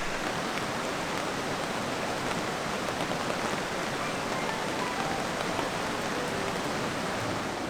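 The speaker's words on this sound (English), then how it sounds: "it is also still dumping rain" Heavy rain pours down steadily at a campsite, a dense, even hiss of drops drumming on surfaces, with no break in the downpour.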